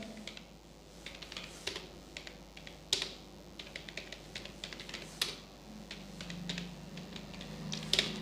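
A computer keyboard is typed on while text goes into an MS Word resume, with quiet, close key clicks in uneven bursts that run through the whole stretch.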